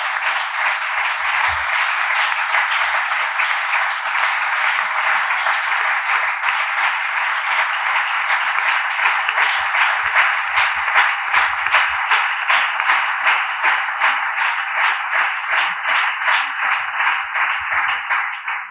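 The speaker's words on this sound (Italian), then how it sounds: "chiedo a tutti un applauso finale" A final round of audience applause closes an Italian talk on freedom and fear, sustained and dense from start to finish at a steady level.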